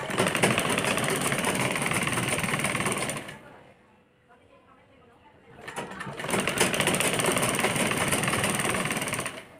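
Electric sewing machine stitching a frilled top, running in a rapid steady whir, pausing briefly for about two seconds, then resuming close up.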